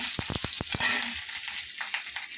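Kalmi shak (water spinach) frying in a hot pan, a steady close sizzle with a few sharp taps and stirring knocks near the start, no talk.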